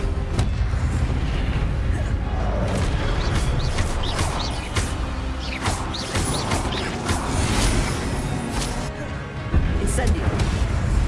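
An Incendio fire spell cast in Hogwarts Legacy, dense roaring fiery rumble with clanking impacts and bursts sustained throughout, a voice talking over the game action.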